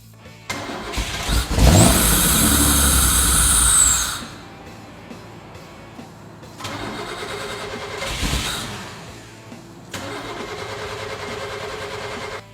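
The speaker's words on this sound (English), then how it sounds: "I'm glad that it started with starting fluid because now we know that it's a fuel-related issue." A Fiero engine with the air intake hose off cranks and catches on starting fluid, roaring loudly for a couple of seconds before dying, then cranks and fires again in shorter bursts.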